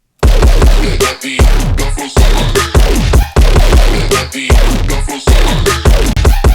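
Serum synth patch processed with Fat Rack and OTT for a remix remake, level turned down slightly: a loud repeating pattern of thick bass-heavy stabs and falling sweeps separated by short pauses.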